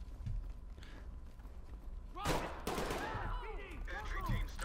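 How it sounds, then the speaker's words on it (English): Gunfire in the tactical shooter Ready or Not: a sharp shot bursts out, followed by a second and then clattering echoes and scattered impacts, fairly loud against quiet in-game ambience. "I unfortunately shot the civilian behind me."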